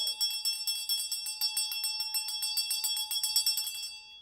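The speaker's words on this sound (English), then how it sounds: "I love ringing a bell because it dispels spirits" A small bright bell rings rapidly and steadily, a continuous high jingling shimmer lasting several seconds with no voices.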